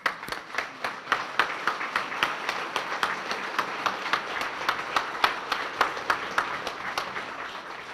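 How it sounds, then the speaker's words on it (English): A dinner audience at a chamber of commerce event applauds past award recipients as they stand, a dense and sustained round of clapping with many distinct sharp claps, steady and fairly close. "please stand so that we can honor you with a collective round of applause"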